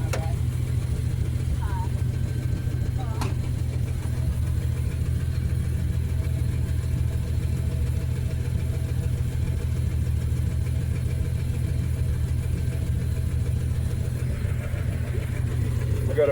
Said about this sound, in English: This is a Dodge.